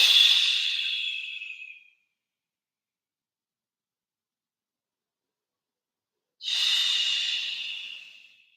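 Two long, deep breaths during a relaxed yin yoga session, each a loud, close, airy hiss lasting about two seconds, with several seconds of complete silence between them.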